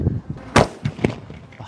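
Sivakasi sky shot firecrackers burst outdoors in a rapid series of sharp booming cracks, one loud central blast among several smaller pops, with faint voices nearby.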